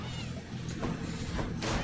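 Cat-like meowing from the chariot enemies in the Hades video game, brief mewing cries over dense, busy game music and effects, fairly loud throughout.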